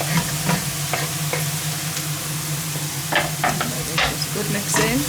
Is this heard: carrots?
yes